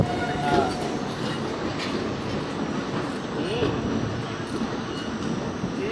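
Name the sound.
Shramjivi Express train departing Patna Junction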